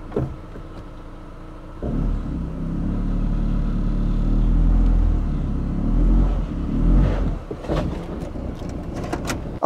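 A Mitsubishi Lancer engine, freshly washed down, starts up and idles with a low, steady rumble, and swells slightly as it revs before settling.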